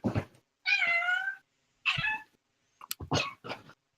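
A cat meows several times, a long clear meow followed by shorter calls, close by in a quiet room, with a few separate vocal sounds in between.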